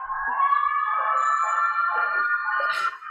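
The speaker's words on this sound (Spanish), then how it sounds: "desde que se escucha la ambulancia" An ambulance siren wails steadily, a sustained high-pitched tone that holds for about three seconds before fading, heard clearly with no talk over it.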